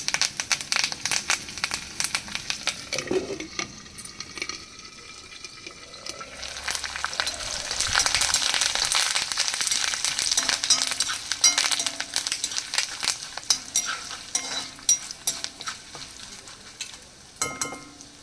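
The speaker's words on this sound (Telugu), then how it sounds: "ఇదిగోండి తుంచిన ఐదారు ఎండుమిరపకాయలు వేసుకోవాలి అలాగే కొంచెం కరివేపాకు" Dried red chilies, torn into pieces, and curry leaves hit hot oil in a pan, giving a steady crackling sizzle with some stirring clinks, swelling louder midway and continuing alone without talk.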